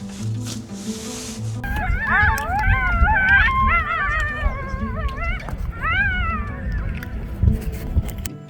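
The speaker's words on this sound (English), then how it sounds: "We just heard some coyote" Several wavering, high-pitched coyote howls and yips rise and fall together over a steady rumbling background, a pack calling from a hillside at Point Reyes some distance away.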